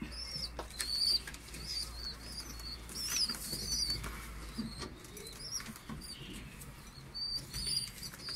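Pigeons in a coop eating feed, with soft wing flutters and scattered high chirps and squeaks coming in short bursts, close by and fairly quiet, no talk.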